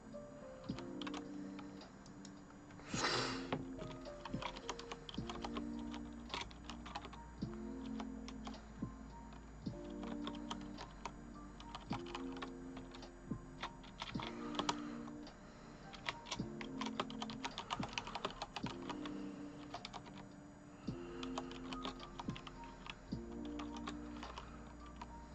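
Someone types on a computer keyboard in sparse bursts of clicks and key taps, close and fairly quiet, with a low steady hum and a soft repeating tone pattern underneath; nobody speaks.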